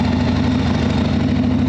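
A Harley Evo engine on a swap meet chopper runs steadily just after a push-button start, a loud close idle rumble with an even low throb and no voices.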